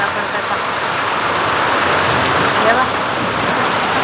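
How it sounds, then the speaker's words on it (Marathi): Hail pours down in a thunderstorm, a dense, loud, unbroken hiss and clatter on surfaces close by, filling the whole moment without a break. "गारा पडताय, बघू शकता तुम्ही"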